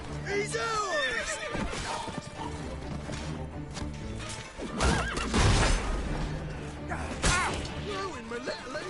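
Horse whinnying in The Witcher 3 game, with neighs rising through a dense mix of clip-clopping hooves, crashes and thuds, while voices talk and shout over the commotion.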